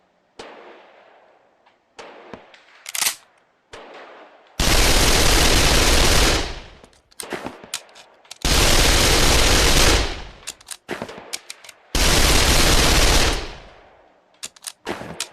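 Gunfire in a VR video game, three long bursts of rapid automatic fire, each about two seconds, loud and close, separated by scattered single shots, clicks and handling clatter.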